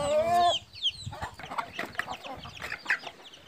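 Chickens cluck and squawk close by while eating feed, with one loud squawk at the start followed by a busy scatter of short clucks and pecking sounds.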